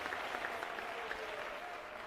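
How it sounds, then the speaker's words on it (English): Steady applause from a seated assembly at a youth civic event, sustained clapping filling the room for about two seconds without voices. "Last round of applause for Mayor Jones."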